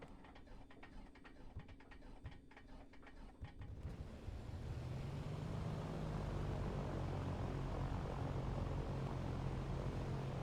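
In Microsoft Flight Simulator, the A2A Piper Comanche's engine cranks with rapid starter clicks, then catches and settles into a steady, loud propeller drone that fills the cockpit.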